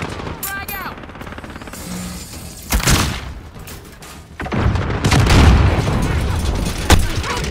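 Loud explosions and bursts of gunfire in a Call of Duty: Modern Warfare multiplayer match, a heavy boom near the middle followed by sustained rumbling blasts and rapid shots, with game voice callouts over the din.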